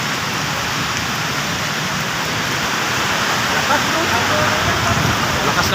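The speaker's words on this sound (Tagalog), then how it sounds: "Lakas ng ulan." Heavy rain pours steadily and loudly as dense, continuous hiss along a road toward Cubao and Pasay, with no break through the whole stretch.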